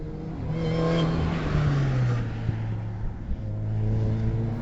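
An Audi S4 race car at a Hampton Downs sprint event, engine loud and steady with a falling rev note as it runs past on the track, then climbing again.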